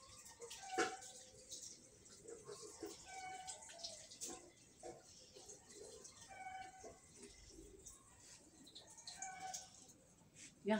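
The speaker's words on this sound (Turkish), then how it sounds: "Ablam ellerini yıkanıyor." Tap water runs softly as hands are washed in a home kitchen, a faint continuous splash with small drips, birds chirping and a few murmured voices in the background.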